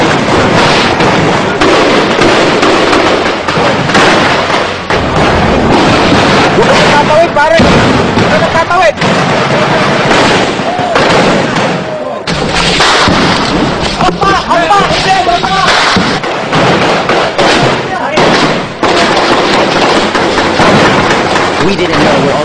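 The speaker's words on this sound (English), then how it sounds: "We didn't know where all the bullets were coming from, but we could hear them ricochet all around us." Gunfire during a battle between the military and Abu Sayyaf militants in the southern Philippines: dense, continuous cracks and bursts, loud and close, with voices talking over the shooting throughout.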